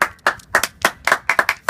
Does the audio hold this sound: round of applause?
yes